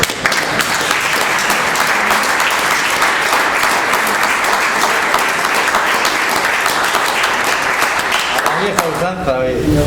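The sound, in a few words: audience applause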